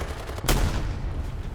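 A single heavy tank cannon shot in War Thunder lands as one sharp broadband blast, close and loud, followed by a rumbling low tail over continuous battle noise, with no talking.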